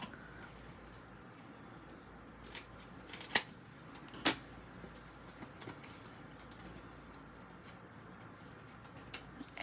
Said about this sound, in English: Now I'm going to snip a bunch of these in half.